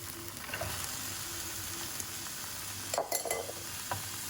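Sweet potato pieces go into a hot frying pan with minced meat, sizzling steadily with a couple of louder scraping stirs and faint clinks near the end.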